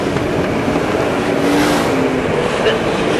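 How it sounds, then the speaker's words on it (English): Modified and superstock racing cars roar continuously around a track at a championship race in New Zealand's North Island, engines droning loudly with a broad steady rumble and occasional higher whines as they pass. "Still 20 cars running on the racetrack."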